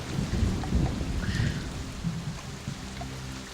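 Steady rain pours with a low rumble of thunder rolling underneath, a continuous storm ambience in a fantasy tabletop role-playing game session, with no talk over it.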